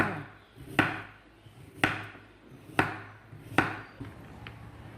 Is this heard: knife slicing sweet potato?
yes